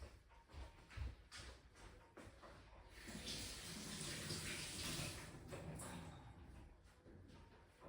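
Faint tap water running steadily into a sink while hands are washed, a soft continuous splash that swells in the middle with some light clatter at the start.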